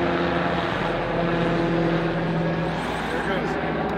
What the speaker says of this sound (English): there's just a helicopter, police helicopter, a bunch of sirens going on over there.